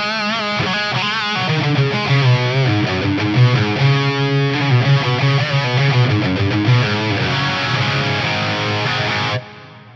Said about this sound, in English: how nicely this concert hall reverb blends with the distorted sound